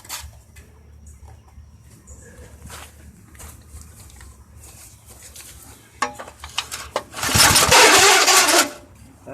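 A pull-start push mower engine, fueled with fresh 90-octane pure gas after carburetor work, sputters briefly and then roars loudly for about two seconds before cutting out, with scattered rustling and clatter beforehand.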